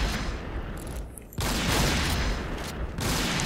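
Dense, continuous gunfire from an L11 rifle in the shooter game Point Blank, loud and sustained with a brief break partway through before the rapid shots resume.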